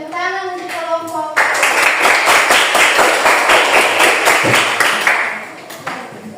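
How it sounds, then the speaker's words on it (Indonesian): A classroom of students gives a student group a burst of brisk, close clapping that lasts several seconds and then tapers off, with a voice heard before it starts. "Ya, tepuk tangan untuk kelompok."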